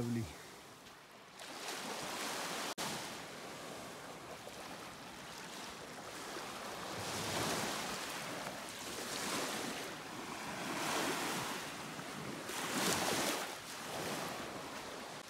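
Waves wash onto a sandy Lake Superior beach on a foggy day, a continuous surf roar swelling in repeated slow surges every few seconds, with wind buffeting the microphone and a person talking briefly.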